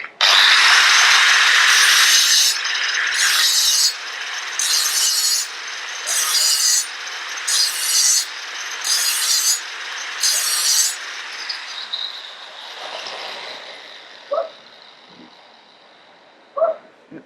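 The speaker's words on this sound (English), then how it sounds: "See if it will deburr it as well." Angle grinder fitted with a Mattox multi-use disc deburring the edge of cut metal: a loud steady whine broken into repeated rasping passes of about a second each, which then fade into quieter clicks and handling.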